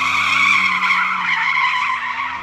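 A Porsche 911 GTS understeers and its tires squeal in a loud, sustained screech that holds steady for a couple of seconds with no talking.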